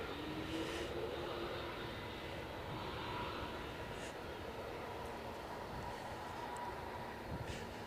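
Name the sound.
ATR aircraft departing Edinburgh Airport in a storm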